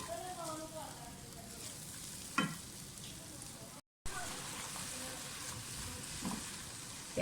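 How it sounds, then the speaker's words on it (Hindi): Onions frying in a pan give a steady, soft hiss of sizzling oil with a few faint clinks. A brief cut of silence falls midway, and no one speaks. "प्याज को फ्राई करें अच्छी तरह से।"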